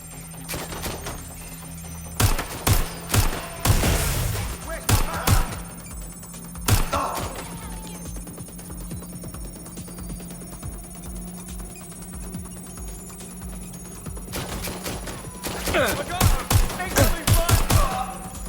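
Gunfire in the video game Watch Dogs Legion comes as sharp bursts of shots scattered across the clip, clustered at the start and again near the end over a constant background hum.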